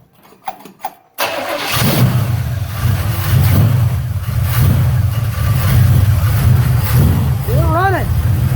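A 1972 Chevelle engine cranks briefly, catches and settles into a steady, loud rough idle, with a person speaking over it near the end.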